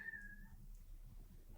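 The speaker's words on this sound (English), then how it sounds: "that was my cat meowing" A house cat gives one short, faint meow at the very start, thin and falling in pitch, then only quiet room hum follows.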